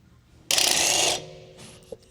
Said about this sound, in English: Use your 17mm socket to remove the sway bar end link nut.